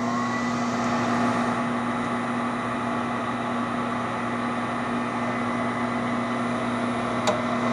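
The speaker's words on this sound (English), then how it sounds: "First you hear this inducer motor turning on." A gas furnace's inducer motor runs with a steady, loud electric hum and whir, constant throughout and close, with a faint tick near the end and no voices.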